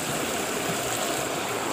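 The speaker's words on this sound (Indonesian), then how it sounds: "kita nuangin airnya ini. Airnya udah mendidih." Boiled water, brought from home, pours in a steady splashing, gurgling rush that stays loud and even through the short moment, with no talk.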